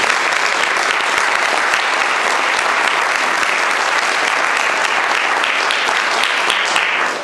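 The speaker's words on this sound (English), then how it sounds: "I think they deserve a round of applause." Steady, dense applause from an audience at an all-candidates youth forum, loud and continuous throughout with no pauses and no voices standing out.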